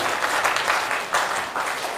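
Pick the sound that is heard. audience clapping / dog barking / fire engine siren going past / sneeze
audience clapping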